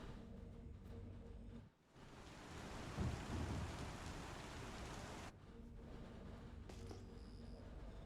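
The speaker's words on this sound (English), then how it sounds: "Oh, the rain." Heavy rain pours in a video game thunderstorm, a dense hiss with a deep rumble of thunder swelling in the middle, then the downpour continues on its own.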